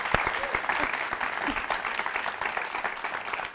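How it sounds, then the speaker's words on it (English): An audience at a talk with a diction specialist breaks into brisk applause, a close, dense patter of clapping that runs throughout, with a voice faintly mixed underneath. "Let's clap now"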